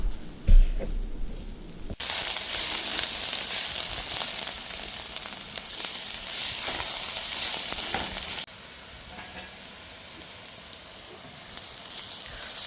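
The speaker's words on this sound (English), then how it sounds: "So I have been roasting this onion for close to 10 minutes now" Chopped onions sizzle and fry in a hot pan while being stirred toward caramelizing, a loud continuous crackling hiss that starts abruptly, runs steadily and then drops to a quieter sizzle.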